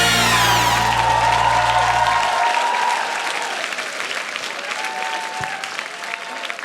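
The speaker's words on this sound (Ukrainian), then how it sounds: "І ці оплески" A studio audience bursts into loud, dense applause at a children's comedy show, with a low musical tone underneath that cuts out partway through while the clapping carries on and slowly thins.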